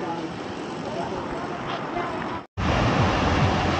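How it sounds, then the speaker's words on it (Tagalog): Strong ocean waves on a Boracay beach, a broad continuous roar of surf with wind rumble, briefly cut by a short gap before resuming just as loud. "Lakas ng alon, bawal daw maligo dito."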